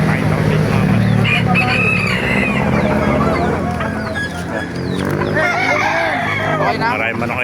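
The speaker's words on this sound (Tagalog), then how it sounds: "Maraming manok kayo dito sa labas pala." Many chickens and roosters at an outdoor poultry market in Baliuag, Bulacan, clucking and crowing continuously in a loud, busy din, with someone talking nearby and crowd chatter mixed in.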